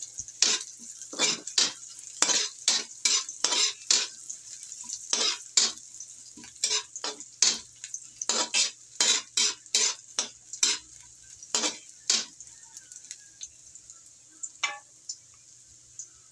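Ginataang puso ng saging being sautéed in a pan with chili added, giving a steady sizzle broken by many sharp clinks and scrapes of a utensil stirring against the metal, close and loud throughout.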